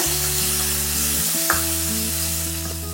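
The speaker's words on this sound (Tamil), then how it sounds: "அதோட கூட கொஞ்சமா கருவேப்பிலை சேர்த்து இதை நல்லா பொன்னிறமாகும் வரைக்கும் வதக்கிக்கோங்க." Shallots, dried red chillies and curry leaves fry in a pan for spinach curry, a continuous close sizzle under a steady low tonal hum, with a faint stir clink partway through and no speech.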